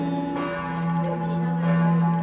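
Church bells ring at Melk Abbey in Austria, with their tones overlapping in a sustained, resonant wash. They sound moderately loud, with the outdoor surroundings faintly audible in the background.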